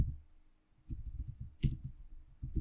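Quick, light keystrokes on a computer keyboard while a Power BI DAX formula is typed, coming in short irregular clusters of clicks, close and quiet, with no talk over them.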